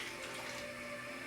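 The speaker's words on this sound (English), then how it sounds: "I'm just going to go ahead and add 200 millilitres of water" Water pours steadily into a pot of chilli con carne, about 200 millilitres, a brief continuous splashing trickle, close and alone without talk.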